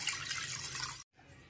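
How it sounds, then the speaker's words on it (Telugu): Water is poured from a vessel into a cooking pot to boil drumsticks for pulusu, a soft steady hissing splash that cuts off after about a second, followed by a faint trickle. "ఈ పాత్రలో ములక్కాడలు ఉడికించుకోవడం కోసం కొన్ని నీళ్లు పోస్తున్నానండి."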